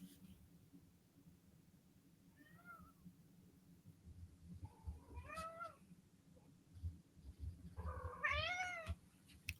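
A house cat meows three times at close range, a short call followed by two longer wavering ones, each growing louder, over a low steady room hum.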